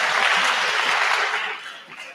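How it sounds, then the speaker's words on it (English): Audience applause for students at a mentorship event, a brief burst of dense clapping with light murmuring that fades out after a couple of seconds. "give a round of applause to our students,"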